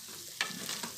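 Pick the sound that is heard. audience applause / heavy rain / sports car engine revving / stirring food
stirring food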